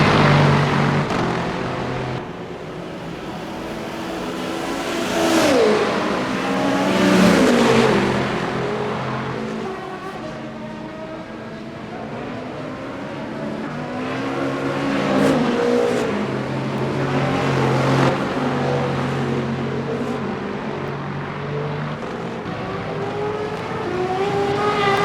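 An Alpine race car in Le Mans Ultimate slows and rolls into the pit lane at Imola during a 6-hour race, its engine droning and revving steadily for about 25 seconds with no one talking.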